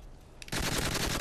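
A PKP Pecheneg machine gun fires in a video game, a short quiet lead-in followed by a sudden loud, dense burst of rapid shots that runs to the end.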